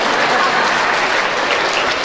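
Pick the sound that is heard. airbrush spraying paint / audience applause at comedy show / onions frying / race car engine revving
audience applause at comedy show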